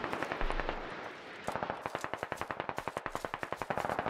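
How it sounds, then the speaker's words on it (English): Rapid blind gunfire in a military tactical shooter game, a fast rhythmic automatic burst of dozens of sharp shots, briefly pausing before resuming steadily, no talking. "This is just blind fire, I believe."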